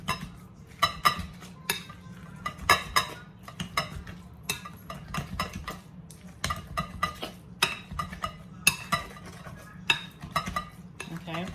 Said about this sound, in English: Now I got my little masher. I'm just gonna mash them like I would mash if I had potatoes